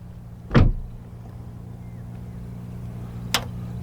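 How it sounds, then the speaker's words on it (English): Maserati Levante S vacuum-assisted doors closing: one firm thud close by, then a second, lighter shut a few seconds later, over a steady low engine idle. "all the doors are actually vacuum doors"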